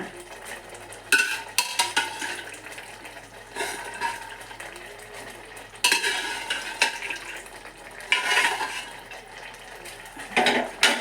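A pot of black-eyed bean and green gram curry being stirred, with repeated scraping and clinking of a utensil against the pot rising in short bursts over a low simmering background; no voices.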